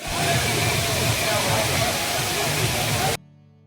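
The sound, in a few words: Areekal waterfall water rushing over rocks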